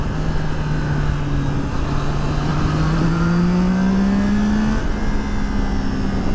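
Triumph Tiger Sport 660 motorcycle engine accelerating hard in third gear, a loud, steady close-up drone whose pitch climbs smoothly as it revs, with wind rush throughout and no talking.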